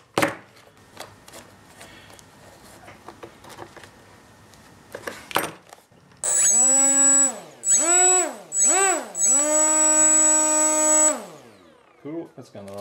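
After some quiet handling clicks, the brushless motor of a Reptile S800 RC flying wing spins its propeller up and down four times, each run a loud rising-and-falling whine with a high electronic tone, close by.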